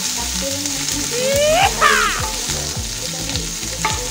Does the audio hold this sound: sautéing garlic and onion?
yes